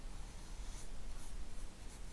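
A pencil scratches steadily across paper, a close, continuous soft rasping with slight rhythmic strokes.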